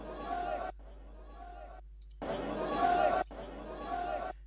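An alert sound from trading software signalling new volume flow entering the bond futures market: several short bursts of busy chattering, clicking noise separated by brief pauses, fairly quiet.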